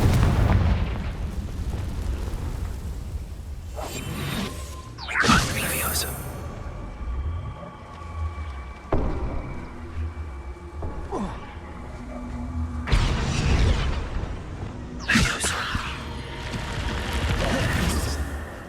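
In the video game Hogwarts Legacy, Confringo explosion spells burst several times, sharp booms with crackling tails over a low ambient rumble, while a voice speaks briefly between them.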